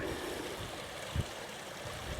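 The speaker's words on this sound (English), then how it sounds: "The river runs down into it," A river running down into a swallow hole on a hill walk: a faint, steady broadband rush of flowing water, distant and continuous, with a brief low thump partway through.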